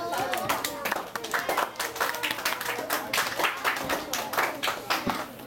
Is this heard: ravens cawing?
no